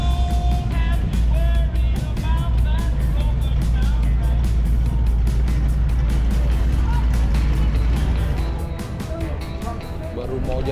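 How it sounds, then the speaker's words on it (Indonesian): An old 1930s–40s car engine warming up at a roadster show and swap meet, a loud continuous low rumble close by that eases near the end, with people talking over it. "Baru mau jalan ke NHRA, ada suara mesinnya. Gue tahu banget ini mesin gila ya gitu."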